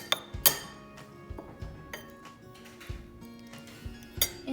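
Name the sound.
mixing lemon and orange zest in a bowl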